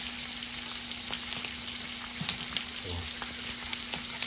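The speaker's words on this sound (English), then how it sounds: "Just gonna put it in the pan like that." Eggs fry in a pan with a continuous bright sizzle and scattered small pops, under a faint steady hum, with a brief spoken word.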